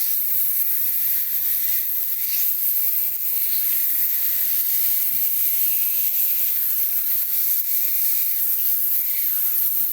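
A beef patty is pressed flat with a spatula and meat flattener on a Blackstone griddle, giving a continuous loud sizzle and hiss with small crackles, with no voices.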